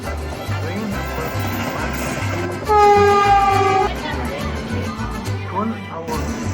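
A Chennai Egmore–Kanyakumari Superfast Express train rolls with rhythmic wheel clatter, and a loud horn blast sounds midway for about a second; a voice talks over the running noise.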